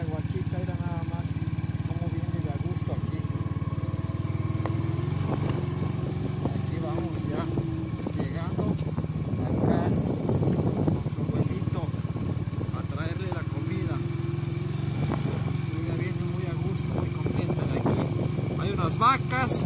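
A motorcycle ridden along a rural road past cows, carrying a rider and a child: a steady, close engine drone with wind rumble throughout and brief voices now and then.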